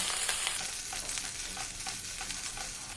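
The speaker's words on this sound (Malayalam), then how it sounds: "ഒപ്പം തന്നെ നമുക്ക് ഈ ഇഞ്ചി നീളത്തിൽ അരിഞ്ഞത് കൂടി ചേർത്ത് കൊടുക്കാം എന്നതിന് ശേഷം ഒരു മിനിറ്റ് ഒരു മീഡിയം ഫ്ലെയിമിൽ ഇതൊന്നങ്ങ് വഴറ്റി കൊടുക്കാം" Long-sliced ginger sautés in a pan over a medium flame, giving a soft, even sizzle and hiss throughout, with faint stirring taps.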